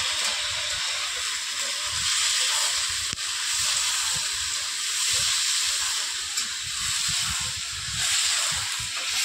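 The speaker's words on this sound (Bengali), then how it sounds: "ফোড়নটা ভাজা হয়ে গেছে, এবার আমি সব সবজিগুলো দিয়ে" Vegetables fry in a pan of tempered spices for dalia, giving a steady hiss and sizzle that swells and eases gently throughout, moderately close, with faint low rumbles beneath and no talk.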